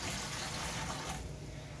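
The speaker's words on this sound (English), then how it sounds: "And I rinse it out with some water." Water gushes and splashes steadily into a container being rinsed out while making butterfly pea tea wine, then eases slightly toward the end. No voices are heard.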